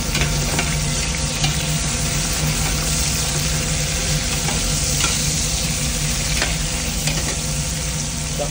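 Lemongrass and onion sautéing in hot oil in a pan for an octopus dish, a loud, steady hiss and sizzle with occasional scraping stirs and crackles, close up and without talk.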